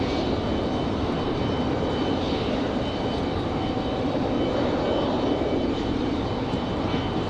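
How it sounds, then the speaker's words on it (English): A Delta Airlines Boeing 737 jet at Raleigh Durham International airport gives a steady, loud roar of engine noise that holds evenly throughout, with no voices over it. "Here's a 737, Delta Airlines."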